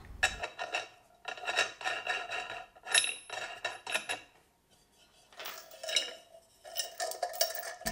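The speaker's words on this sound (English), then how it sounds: "slide the base over the rod followed by your last washer and nut" A washer and nut slid and threaded onto a metal threaded rod for a flower pot heater build, giving bursts of close metallic rattling and scraping with short gaps between them; no one speaks.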